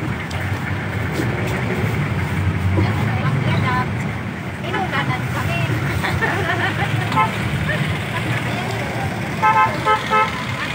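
A jeepney ride out from NAIA Terminal 1 in Manila: engine rumble and road noise under chatter and a babble of voices, with horn toots from nearby traffic, including a short burst of honks near the end.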